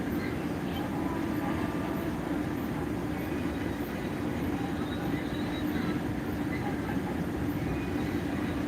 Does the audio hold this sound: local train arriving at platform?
yes